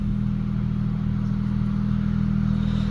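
A 2008 BMW 335i E90 sedan engine and exhaust hum at a steady, mild idle up close, giving a low, even drone with no revving and no speech.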